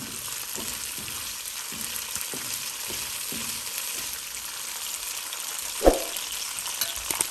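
Pine nuts toasting in olive oil in a pan give a steady, even sizzle with soft scraping stirs and one sharper knock near the end.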